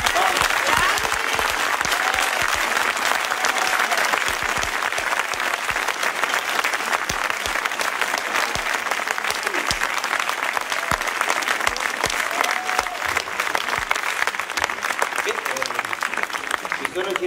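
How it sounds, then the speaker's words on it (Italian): Sustained, loud audience applause for young performers at a music academy musical, dense clapping continuing throughout with crowd noise and some voices underneath. "fate un bel applauso a questi ragazzi"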